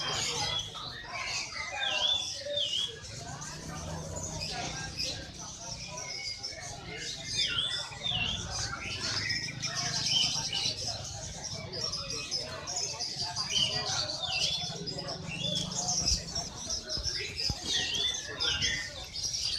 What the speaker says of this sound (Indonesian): Ini burung-burung yang dijual seperti puter,